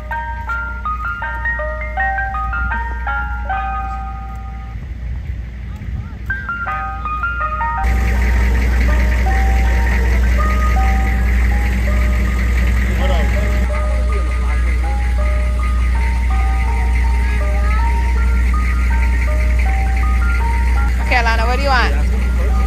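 An ice cream truck on a New York street plays its tinkling, repeating electronic jingle over a low idling engine, loud and close, while people talk nearby.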